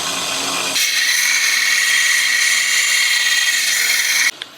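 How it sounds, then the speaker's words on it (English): A power tool grinds a side off a homemade welding hammer made from a hammer drill bit, a loud continuous high whine that starts abruptly, holds steady for several seconds and cuts off near the end. "I need to grind that side off"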